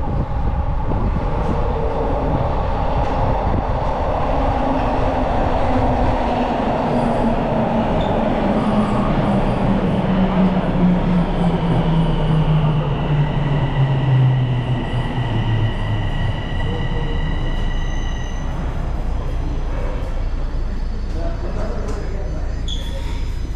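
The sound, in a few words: Toronto subway train running underground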